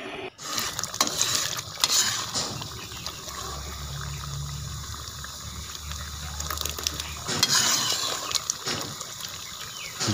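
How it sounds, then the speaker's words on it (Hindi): Spoon scraping and stirring desi egg manpasand in a pan as it thickens, with steady clinking, scraping strokes and a soft wet churning under a low hum, louder bursts near the start and end. "जितना ज़्यादा आप इसको चम्मच चलाएँगे उतना ज़्यादा ये दानेदार बनेगा।"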